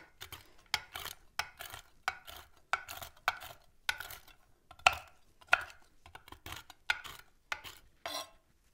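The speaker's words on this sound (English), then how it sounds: "I'm just gonna roughly chop the mixed nuts." Mixed nuts are roughly chopped with a knife on a board, giving a quick series of crisp, evenly spaced chops and crunches, close and fairly loud, with no talk.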